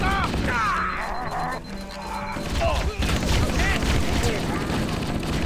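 Gunfire from the video game Halo: The Master Chief Collection on Legendary difficulty, a dense run of shots, blasts and crashes mixed with other battle noise, with voices talking over the fighting.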